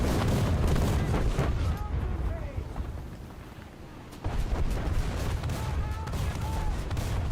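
War Thunder artillery shells fire and explode in a dense, rolling barrage of booms and blasts that fills the whole stretch, easing slightly midway before a fresh wave of impacts hits loud and close.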